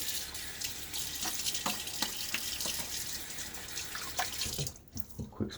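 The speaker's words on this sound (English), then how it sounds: "splash of water on my face." Water splashed onto the face during a wet shave: a steady running tap with continuous splashing and dripping close by, ending in a few separate splashes after the flow quietens.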